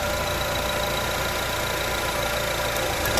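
A car's auxiliary fan motor running after a relay repair, a continuous loud whirring drone with engine-like rumble, steady and close, no talking.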